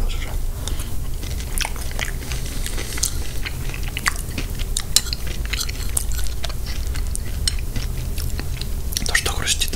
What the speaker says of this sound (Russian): То, что хрустит, это я сюда сухарики вот эти вот